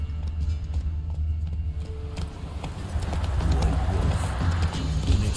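Geralt's horse Roach galloping in The Witcher 3 video game, a steady rhythmic run of hoof beats that grows busier and louder partway through, with a brief spoken command near the start.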